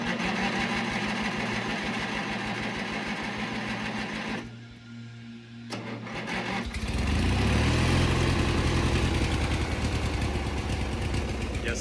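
A racing lawn mower engine, choked, idles with a steady low chug, cuts out briefly, then catches and revs up loud, its pitch rising and settling into a strong running drone.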